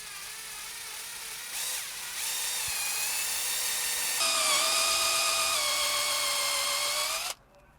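A power drill spinning a duct cleaning brush in a dryer vent duct whirs loudly and steadily, its pitch climbing as it speeds up, before cutting off abruptly.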